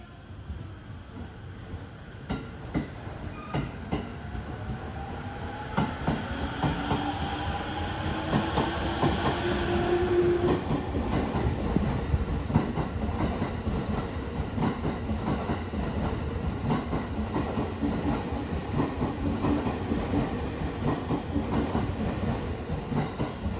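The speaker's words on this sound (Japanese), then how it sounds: "成田行きの電車が発車します" A JR East train bound for Narita pulls away from Abiko Station with a low rumble and rhythmic clatter of wheels that gradually build, steady and fairly close, with no talking.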